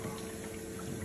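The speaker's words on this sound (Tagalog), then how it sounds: "Ang ingay yung drain." Draining water gives a short, steady, faint rush and gurgle, a constant flow with no voices.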